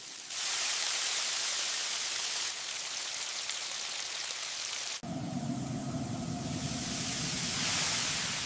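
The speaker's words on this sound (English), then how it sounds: "Listen to that sear." Smash burger patties of 80-20 ground chuck sizzle on a hot griddle as a loud, steady, close hiss that shifts in texture partway through, with no voices.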